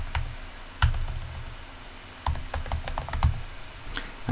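A file name being typed on a computer keyboard, with close, crisp key clicks coming in short bursts with brief pauses, no talking.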